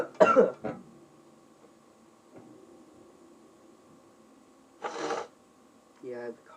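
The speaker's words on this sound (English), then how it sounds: "I have a cough really bad" A person gives a couple of short coughs close by, then pauses in quiet room hum before another burst of coughing and a brief throat-clearing sound.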